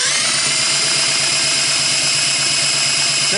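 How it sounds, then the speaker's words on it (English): A steady, loud whirring drone of a power drill turning over a Honda ATC185S engine with the spark plug out, continuous and close throughout. "I also like to turn them over with the drill before I put the plug into them"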